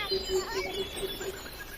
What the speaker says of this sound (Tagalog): naririnig mo yung mga awitin ng mga ibon sa paligid